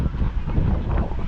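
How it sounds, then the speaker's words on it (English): Steady wind rushes and buffets the microphone on a cold day at Kullu Nature Park. A dense, rumbling roar fills the whole stretch with no speech. "It's a little windy and more cold than usual."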